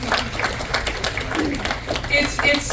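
A crowd at an outdoor strawberry social gives a round of applause, with scattered clapping running under people talking nearby throughout.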